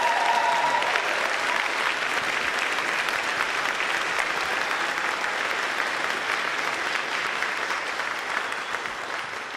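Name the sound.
debate audience applauding a candidate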